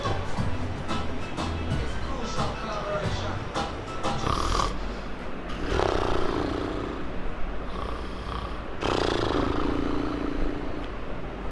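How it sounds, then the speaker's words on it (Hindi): A person snores in repeated rasping breaths with a steady rhythm, heard up close and fairly loud against a faint background. "खर्राटा लेने को अंग्रेजी में टू स्नोर कहा जाता है।"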